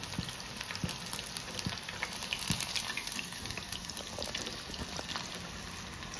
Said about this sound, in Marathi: हे बघा, अशा प्रकारे हे लाल होईपर्यंत खरपूस तळून घ्यायचं आहे आपल्याला.